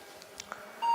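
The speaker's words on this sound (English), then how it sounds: "Oh, a beep. That's not good." A short electronic beep sounds from a 286 computer powering on, giving a POST beep code at boot as a brief, faint tone on a quiet background.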